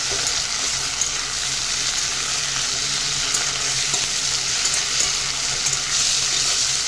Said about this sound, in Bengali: চিংড়ি মাছ আলাদা করে ভাজিয়ে নিই।